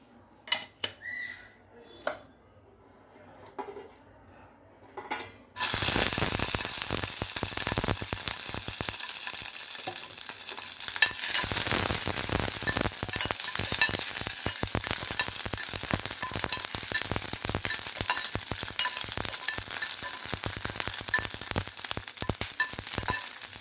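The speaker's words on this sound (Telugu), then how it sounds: "ఇప్పుడు కొంచెం ఆయిల్ వేస్తున్నాను" Oil poured into a hot pan for a village-style cucumber roti chutney bursts into loud, steady sizzling and frying after a few quiet clinks, continuing close-up with crackles and the occasional scrape of a utensil.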